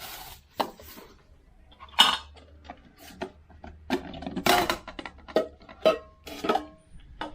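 A camping cookware set for five people, with plates, bowls and a spatula, clatters as it is handled: a string of sharp metallic clinks and knocks with short pauses in between, close and fairly loud, with no talking.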